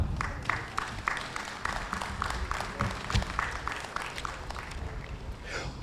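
Outdoor Veterans Day ceremony crowd in Manatee County applauding, a moderate, fairly distant spread of clapping with scattered sharper claps, steady over several seconds.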